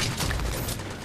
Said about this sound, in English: There's someone attempting to shoot me.